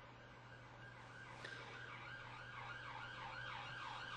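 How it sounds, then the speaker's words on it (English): Emergency vehicle siren wailing in a steady rising-and-falling pattern as it passes through downtown London, continuous and fairly distant over a constant low hum of city traffic. "You'll be pleased to know that siren's not stopping here."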